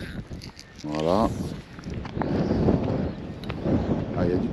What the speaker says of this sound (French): Ah, il y a du vent.